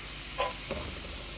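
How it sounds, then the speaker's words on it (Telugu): Peeled garlic cloves sizzle in hot oil on a low flame as tempering for a grated raw mango pickle, a soft steady frying hiss broken by a couple of faint pops, with no speech. "సిమ్లో పెట్టుకొని అయితే పోపు అయితే పెడుతున్నాను"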